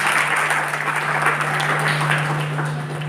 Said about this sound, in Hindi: एक बार जोरदार तालियों से आप सभी का